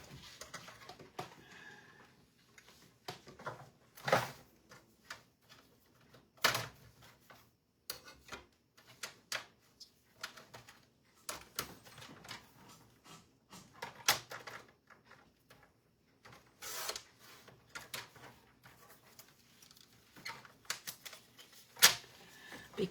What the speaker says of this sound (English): Better trim down my cardstock a little bit.